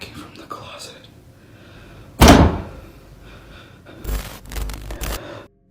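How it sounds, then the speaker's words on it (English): Knocking comes from inside a closet in a house at night: a sharp loud bang, then a short cluster of dull thumps a couple of seconds later, over a quiet room background. "I just heard knocking from the closet."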